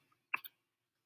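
Two quick, close mouse clicks snap in near silence, with a faint tick just before them.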